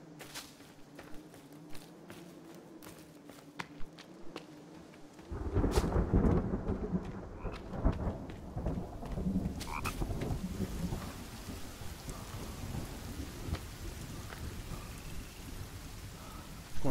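Rain in The Forest survival game begins as a soft hiss, then swells into a heavy steady downpour with thunder rumbling in, while frogs croak in a rhythmic chorus early on; no speech.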